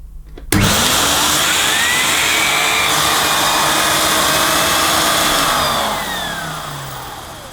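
A Miele S240i cylinder vacuum cleaner switches on abruptly, and its motor whines loudly and steadily at close range with a rising pitch, then begins to wind down near the end.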